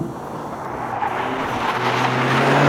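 Toyota GR Corolla with a turbocharged 1.6 liter three-cylinder, 300 horsepower and all-wheel drive, driven hard on a track, a steady loud roaring engine drone building slightly in intensity.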